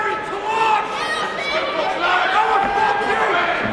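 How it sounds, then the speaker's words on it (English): A restless crowd at a boxing match between Gary Fox and Billy Smith murmurs and chatters in a steady, dense hum that swells slightly at moments, with no single voice standing out. "crowd getting a little bit restless here"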